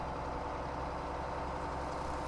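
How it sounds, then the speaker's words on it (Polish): A truck engine idles in Farming Simulator 17, a steady low rumble that stays constant and even from start to finish with no talking. "Ale piękny masz silnik."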